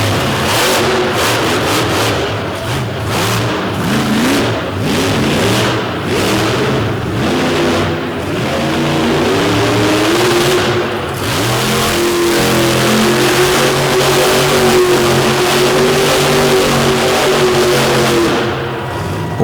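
A monster truck engine roars and revs during a freestyle show in a stadium, loud, sustained high-power revving that rises and falls over about twenty seconds, with a crowd-filled ambience behind it.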